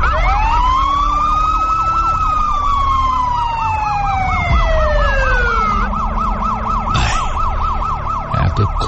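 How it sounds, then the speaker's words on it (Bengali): A loud wailing emergency siren close by at a highway accident scene, its pitch sweeping up and down in rapid repeated cycles over a low traffic rumble, with a thump near the end. "এতক্ষণে একটা পুলিশের গাড়ি এসেছে"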